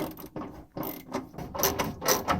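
A ratchet loosens screws on a landlord's furnace chimney pipe in a run of short, quick metallic clicking strokes with small gaps between them, close by and with no talking.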